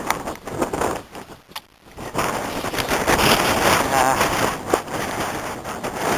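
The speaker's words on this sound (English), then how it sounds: "The wind picked up again, so you may not be able to hear me" Gusty wind roars across the microphone beside a road at the Artro estuary near the Llanbedr airfield entrance, with rumbling buffets that briefly drop and then surge again. A voice is faintly present beneath the wind.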